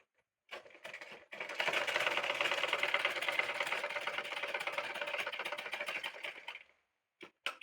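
Sewing machine stitching an abaya gown with a collar: a steady fast mechanical whir running for several seconds after a short start-and-stop, then brief taps as it halts, close and alone.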